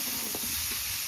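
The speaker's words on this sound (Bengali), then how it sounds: "আলু আর কলা কিন্তু খুব বেশি কষানো দরকার নেই, হালকা ভাজা ভাজা করে নিয়েছি" Potato and banana pieces fry in a pan over a wood-fired clay stove, giving a steady close sizzle with a few soft stirring scrapes and no voices.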